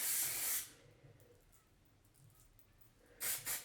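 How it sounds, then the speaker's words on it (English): Two short hissing bursts of hairspray close by, one at the start and a double puff at the end, with quiet room noise between them. "I take this hairspray and I spray it up under"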